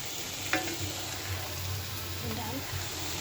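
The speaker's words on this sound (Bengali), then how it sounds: "শাক ভাজি প্রায় শেষের দিকে" Greens fry in oil with a soft, steady sizzle under a faint background hum, close but quiet, with a brief clink early on.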